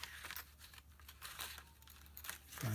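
Scissors cut through paper in a quick series of crisp snips and rustles, close and fairly quiet with no talking.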